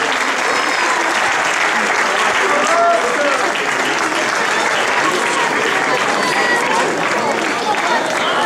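Sustained, loud audience applause at a tournament prize-giving ceremony as a third-place club is honoured, a dense, even wash of many clapping hands lasting several seconds with crowd murmur mixed in.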